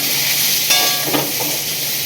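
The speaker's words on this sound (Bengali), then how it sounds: "শুধু পটলটাকে লাল লাল করে ভাজছি এখন" Pointed gourd fries in a pan, a steady close sizzle with hissing oil throughout and a couple of brief stirring scrapes in the middle, no talking.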